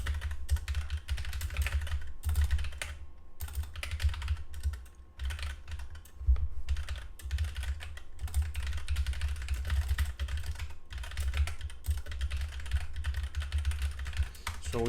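Steady computer keyboard typing while code is written to parse puzzle input, with continuous fast keystrokes close up and only short pauses across the stretch.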